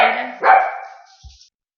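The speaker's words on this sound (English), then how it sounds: "My little dog was barking." A small dog gives two quick, loud, close barks, the second slightly higher, followed by a brief fading whimper.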